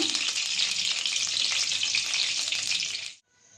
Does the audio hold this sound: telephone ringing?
no